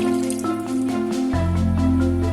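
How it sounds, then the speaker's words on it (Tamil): Water pours steadily into a pot of moong dal mixed with grated coconut and coriander for a hotel-style Karnataka bonda soup, a continuous splashing trickle heard up close with no talk. "இதுல கொஞ்சமா தண்ணி விடலாம்."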